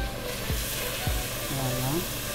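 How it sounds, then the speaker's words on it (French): Water poured into a hot pan for peanut sauce with mutton sets off a loud, continuous sizzling hiss that fills the whole moment, with a few low bumps and a short voiced sound under it. "Nous allons maintenant mettre de l'eau."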